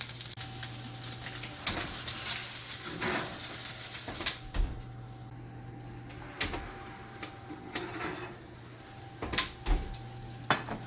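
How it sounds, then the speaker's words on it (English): A piece of halibut being quickly seared in a hot pan, a soft continuous sizzle with occasional sharp clicks and knocks of the pan or utensil, fairly quiet, and no one speaks. "we're just going to sear the bottom quickly"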